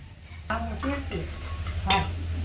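Dishes being washed in a home kitchen: pots, pans and cutlery clatter and clink in a few close, uneven knocks over a low steady hum.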